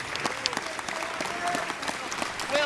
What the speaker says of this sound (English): The OpTic fans in the crowd applauding their efforts